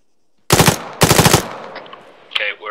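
Automatic gunfire in the military shooter game Arma 3, two loud close bursts of rapid shots half a second apart, followed by fainter rattling and a brief voice-like burst at the end.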